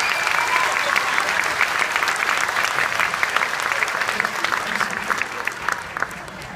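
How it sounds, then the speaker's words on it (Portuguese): Audience applause greeting a comic artist called to the stage at an arts event in Granja Viana, loud, sustained clapping from a crowd with a little voice mixed in, holding steady and easing slightly toward the end. "Palmas para ele."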